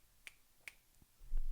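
Two crisp finger snaps about half a second apart, the way a poetry audience applauds, near and clear, followed by a brief low rumble at the end.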